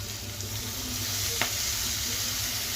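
Fenugreek leaves hitting a pan of frying chicken, a steady broad sizzle throughout with a faint stir or clink partway through, no talking.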